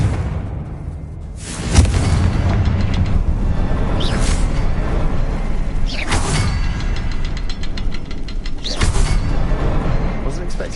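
A Confringo fire spell in the Hogwarts Legacy video game goes off in several sudden, loud bursts, each a sharp crack followed by a crackling, rumbling tail, spaced a few seconds apart over a steady game background.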